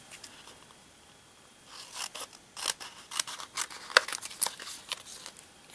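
Scissors snipping through photo and backing material for a handmade ornament, a run of crisp close cuts that start sparse and grow quicker and louder, with no talk.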